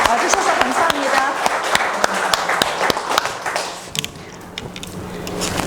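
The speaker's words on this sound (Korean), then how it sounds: "고모님들 큰 박수 부탁드립니다." A forum audience in a hall gives a round of clapping, scattered sharp claps over a crowd murmur that fade toward the end as people talk nearby.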